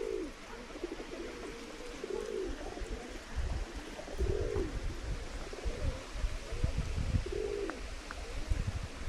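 Pigeons cooing at a square where they gather and are fed in a town, several soft rolling coos repeating at intervals over low traffic and street noise.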